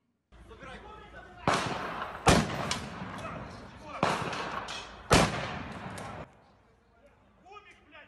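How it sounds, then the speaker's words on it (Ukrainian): Several sharp, loud pistol shots ring out at uneven intervals, each with a short echoing tail, like shots fired outdoors at a moderate distance in Mukachevo. "Звідти у відповідь лунали пістолетні постріли."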